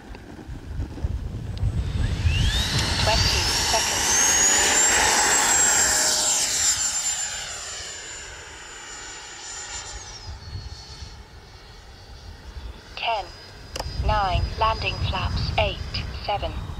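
An FMS Integral 80mm electric ducted-fan RC jet plane on a high-voltage lithium battery pack flies past with a rising, piercing whine that holds steady then fades as it passes, over wind noise, and a voice talks near the end.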